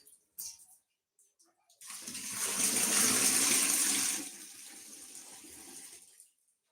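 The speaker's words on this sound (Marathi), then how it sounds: "पाणी काढायले टाकीतलं" After a few faint clicks, water drawn from a storage tank gushes out in a loud rushing stream for a couple of seconds, then eases to a quieter trickle before stopping.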